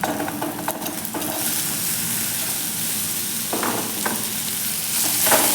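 Chopped capsicum sabzi being mixed in a pan, a continuous close sizzle under occasional scraping strokes of the spatula, fairly loud and steady with no voices.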